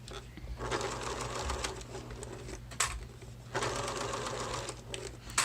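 A sewing machine stitches around the curves of a fabric clutch bag in two bursts of rapid, close, steady running, separated by a short pause near the middle.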